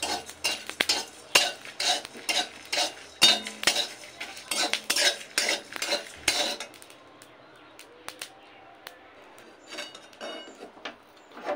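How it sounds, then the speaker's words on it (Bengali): Spices with black peppercorns dry-roasted in a pan, a spoon stirring them in quick, close metallic scrapes and clinks for about seven seconds, then the strokes fade into a quieter, sparse tail. "তো সমস্ত মশলা হালকা গন্ধ ওঠা পর্যন্ত ভেজে নেব।"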